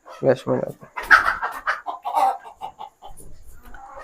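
Hens cluck in short bursts close by while a person talks over them.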